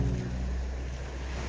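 Sea waves wash against the shore in a steady, broadband roar, with wind buffeting the microphone and a faint low hum in the opening moment.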